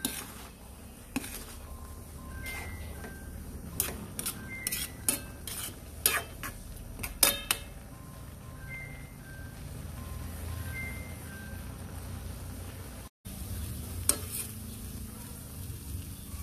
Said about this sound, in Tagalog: Hanggang sa maluto ang ating pancit canton.